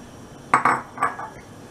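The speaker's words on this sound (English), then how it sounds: "First, we need to dry roast these sesame seeds." Sesame seeds being dry roasted in a pan over a low to medium flame for til laddoo, with a few short clinks and scrapes of a utensil against the pan.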